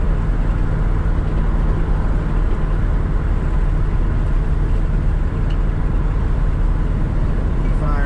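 A car engine idling after a Holley carburetor install, a loud steady low rumble with a constant drone and no change in rhythm, heard up close.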